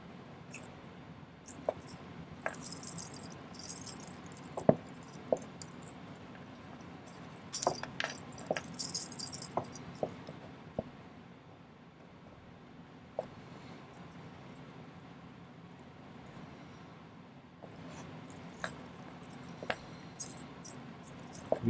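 Rounded chain nose pliers rub and press against bent bracelet wire, producing faint scattered metallic clicks and small clinks amid quiet handling noise, close and without talk.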